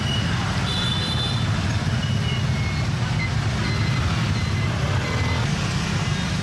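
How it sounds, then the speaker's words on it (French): Dense Hanoi street traffic with a steady loud roar of motorbikes and mopeds, cars and horns, with high reversing-style beeps sounding through the constant din. "Vous êtes plongé dans les pétarades des motos et les explosions des vélomoteurs, auxquelles s'ajoutent les klaxons des voitures"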